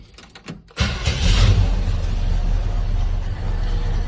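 A truck engine cranks and catches after an oil change, settling into a loud, steady idle rumble close by after a brief starter whir.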